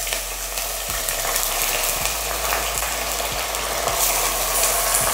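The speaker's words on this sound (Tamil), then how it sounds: "இப்போ நம்ம கறியை போட்டு வதக்கிடுவோம்." Beef frying in oil with slit green chillies, a loud continuous sizzle with a few soft taps of a stirring spoon and a low steady hum underneath.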